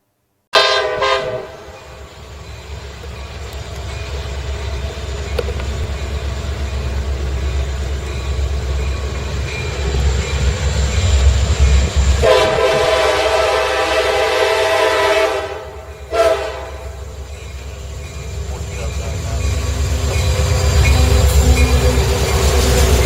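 A road railer train runs along rail lines, a loud continuous rumble of passing cars with long blasts of the train horn sounding near the start and again midway.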